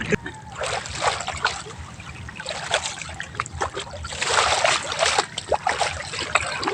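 Swimmers in sea water make irregular splashes and sloshes, some sharp and close, in repeated bursts, with voices faintly in the background.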